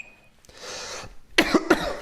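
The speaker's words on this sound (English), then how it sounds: "Sorry for the cough." A close breathy inhale, then two sharp, harsh coughs in quick succession, loud and near.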